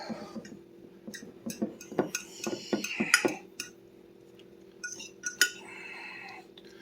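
Flour being mixed into a zucchini sausage casserole filling with a metal utensil, giving a run of close clinks and scrapes against the bowl followed by a few softer taps.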